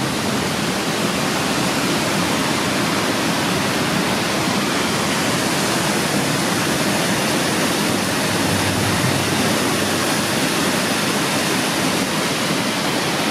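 The waterfall at Orbaneja del Castillo, in Burgos, pours with a steady, loud, unbroken roar of rushing water, close by and without any voices over it.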